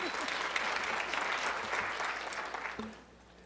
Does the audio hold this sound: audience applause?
yes